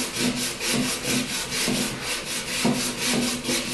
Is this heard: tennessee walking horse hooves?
no